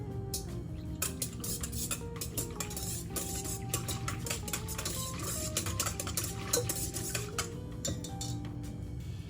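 Spoon clinking and scraping against a bowl while stirring yeast into warm water for focaccia, a steady run of light metallic taps and swirls under a faint background hum, close and continuous without talk.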